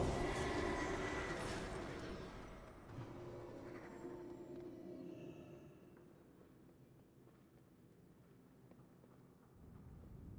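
A tram in World of Warcraft rolling along as a steady low rumble with a fading metallic hiss, moderately near and unbroken for the whole stretch, with no voices.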